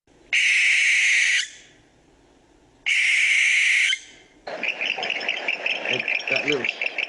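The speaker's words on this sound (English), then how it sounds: "here I'm going to play you a barn owl voice." Two harsh, hissing barn owl screeches, each about a second long and loud, separated by a short pause, followed by a busier burst of mixed chattering calls.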